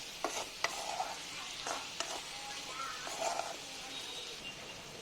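Pork fries with chillies in its own rendered fat, a soft close sizzle broken by scraping stirs and a few light clinks of a utensil against the pan.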